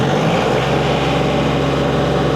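An LS MT232H compact tractor engine runs loud and high after revving to 2,700 RPM, a close, steady, strained drone with a faint rise at the start and no voices.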